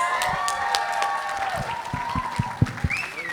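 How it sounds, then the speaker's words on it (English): Wedding reception guests applauding the couple, a mix of clapping and cheering with a few sharper individual claps near the end, under some talk and fading slightly toward the close. "Everybody, please give them another round of applause."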